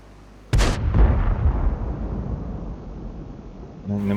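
A tank cannon fires a high-explosive shell in a tank video game, a single loud boom with a long rumbling tail that slowly fades, followed by a brief mechanical sound at the end.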